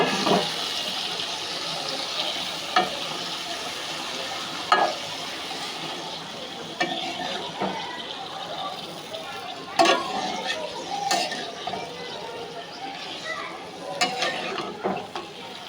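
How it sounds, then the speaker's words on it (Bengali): Fish and water spinach stir-fried in a pan, giving a steady sizzle with scraping and stirring clatters scattered throughout, close and moderately loud with no talking. "এভাবে কিছুক্ষণ এটা কষিয়ে নেব।"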